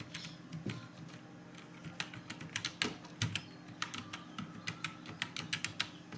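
Keys on a computer keyboard clatter as a title is typed into a PowerPoint slide, an irregular run of quick, close, fairly soft taps with short pauses and no talking.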